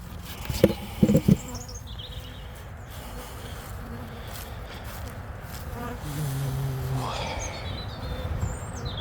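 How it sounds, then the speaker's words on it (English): Honey bees buzzing around an open Carniolan colony during a hive inspection, a continuous low drone with a few thumps and knocks near the start and faint birdsong in the background. "knock the bees off and hide these away just now."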